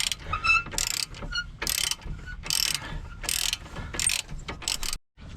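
A ratcheting wrench spins the nut on a strut bolt of a 2007 Toyota Sienna in several fast clicking bursts, close by and loud, ending in a brief silence.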